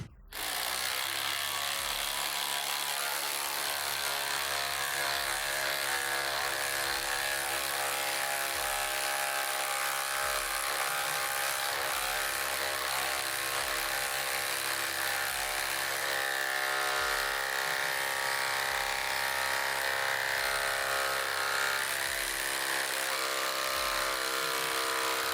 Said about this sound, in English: to see how far each model can drive a 10-inch by 1/2 inch lag screw into the same stacked OSB subfloor material